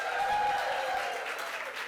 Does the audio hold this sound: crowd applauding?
yes